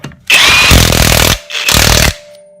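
Cordless high-torque impact wrench tightening a nut: two close, loud bursts of rapid hammering rattle, the first about a second long and the second shorter, separated by a brief pause with a faint lingering hum.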